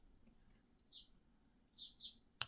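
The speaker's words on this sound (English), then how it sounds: "some birds are chirpy" Birds chirping outdoors, a few short high tweets in two small bursts, faint and distant against a quiet background, ending with a brief sharp click.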